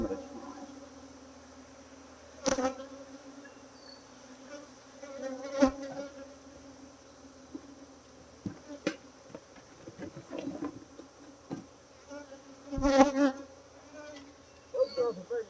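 Agitated honeybees drone continuously around an opened hive, with several bees zipping close past the ear in loud, brief swells over the steady hum.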